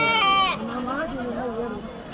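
A goat at the Kadiri sheep and goat market lets out a short, nasal, wavering bleat close by, followed by people talking nearby.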